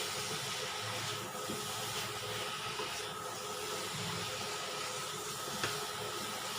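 Eggplant pieces and a dal mixture sizzling in a pan while being stir-fried, a continuous soft hissing crackle with faint scraping, steady and fairly quiet with no talking.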